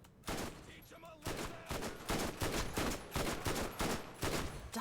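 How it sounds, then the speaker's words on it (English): A constant stream of gunfire from a Vladov weapon in Borderlands: rapid, evenly spaced, loud shots running unbroken for several seconds with no talk. "Vladov just shoots out bullets constantly"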